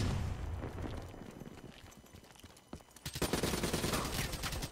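Gunfire in Call of Duty Black Ops 3 multiplayer, rapid bursts of shots and impacts that grow denser and louder in the final second and a half, faint and without talk.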